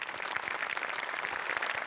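A studio audience at a Marathi comedy show claps for the set crew in a dense, even burst of applause that fills the short moment.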